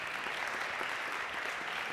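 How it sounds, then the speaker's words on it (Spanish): Loud sustained applause from an audience at a youth creativity gala in Aragón, a continuous dense wash of clapping with no pauses. "Fuertes aplausos"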